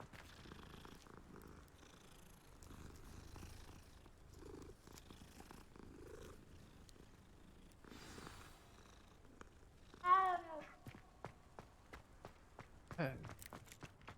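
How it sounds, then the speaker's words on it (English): A cat in the video game Hogwarts Legacy purrs softly and steadily at close range, mixed with light footsteps and brief game sounds, followed by a short burst of louder in-game noises. "Cat."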